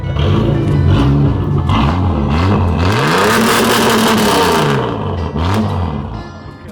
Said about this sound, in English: rev it, and then go back to the exhaust again